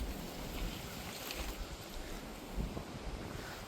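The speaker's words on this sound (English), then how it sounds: "It's crazy windy today." Steady wind buffeting a microphone outdoors, a broad rushing roar with gusty swells and low rumbling, no voices.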